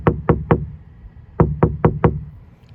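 Knuckles rap on the sound-deadened door of a 2021 Nissan Titan, three quick knocks, then a pause and four more, each a dull, damped thud that stops short, close and clear.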